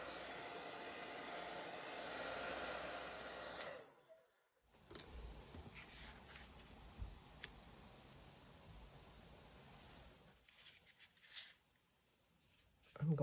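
A hair dryer blows steadily on a piece of handmade paper ephemera made from messy scraps, a loud continuous rush for several seconds that cuts off, then resumes briefly near the end amid small handling sounds.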